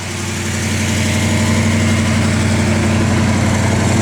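A 1971 Ford Mustang Boss 351 V8 idles close by with a loud, deep, even burble that holds steady throughout, no voices over it.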